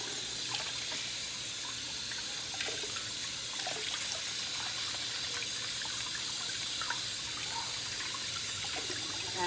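Cold tap water runs steadily into a kitchen sink while a fish is rinsed for Jamaican brown stew, a continuous close splashing hiss with small irregular trickles and drips throughout.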